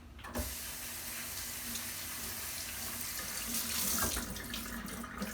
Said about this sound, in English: when I put the water on, it will rinse the grapes off and all the excess water will drain out